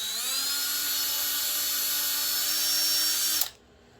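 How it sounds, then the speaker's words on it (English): A power drill bores small pilot holes for screws in a wooden cutting board handle, giving a steady high whine that holds for about three and a half seconds, then stops abruptly. "We're going to drill a couple of small pilot holes for the screws to go in."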